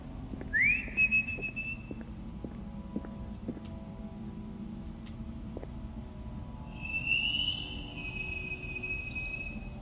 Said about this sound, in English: Somebody decided to whistle back.